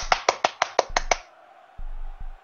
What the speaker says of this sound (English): I hope you heard my patronizing clap.